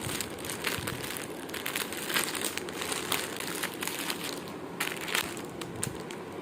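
Crinkly plastic parcel packaging around a saree is handled and torn open up close, a dense continuous crackling and crumpling that rises in bursts over the few seconds.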